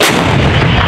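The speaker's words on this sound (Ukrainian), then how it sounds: "Постріл!" A single M777 howitzer round fires in a field position in the Kherson region, a huge close blast with a roaring, rumbling decay that fills the whole moment.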